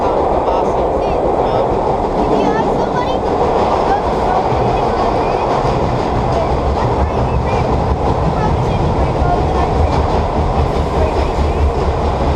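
NYC subway holiday nostalgia train running from Queens Plaza to 2nd Ave, a loud, continuous roar of vintage cars rolling and rattling on the tracks, with a voice faintly audible under the rumble.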